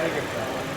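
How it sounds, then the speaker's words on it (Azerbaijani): A car engine reportedly running on sunflower oil idles in a steady, even drone close by, with no audible misfiring or stutter for the short stretch. "mühərrikimizin səsini bir daha eşidək."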